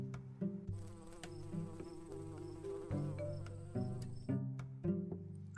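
A fly buzzing as a sound effect, a continuous droning hum that wavers and pulses in pitch for several seconds, loud and alone with no voices.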